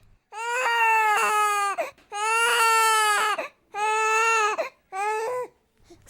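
A cartoon fox cries and wails in long, high, quavering sobs, four drawn-out bursts separated by short gasping pauses, loud and close, with no other sound.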